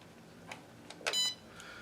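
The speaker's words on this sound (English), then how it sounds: "To turn it on, you just flick the switch here." A brief electronic beep sounds once, clear and close, after a couple of faint clicks as a Sky Cheetah controller's power switch is flicked on, in an otherwise quiet room.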